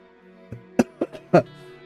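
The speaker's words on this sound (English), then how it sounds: "I was dying there to cough" A few short coughs in quick succession from a nearby person, hoarse and close, over faint steady background tones.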